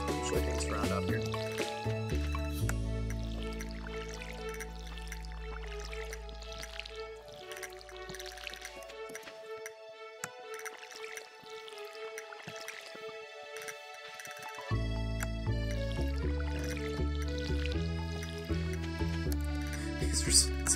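Crops are watered with a can in the farming game Stardew Valley: repeated short splashing pours and drips sound faintly over steady background game music.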